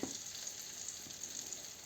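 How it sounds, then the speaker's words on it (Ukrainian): Steady, close crackling sizzle of zucchini frying in hot oil in a pan, an even hiss without pauses. "І так будемо всі смажити."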